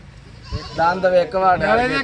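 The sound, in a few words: goat bleating at a goat market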